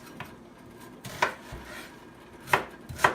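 A knife strikes a cutting board a few times at uneven intervals while chopping an onion, sharp close chops with quiet gaps, the last two coming in quick succession.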